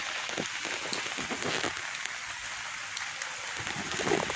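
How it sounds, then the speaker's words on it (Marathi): Heavy monsoon rain pours steadily on a Konkan village in the morning, a dense, even hiss of drops on roofs and ground with scattered closer patters, no voices. "पाऊस चालू आहे"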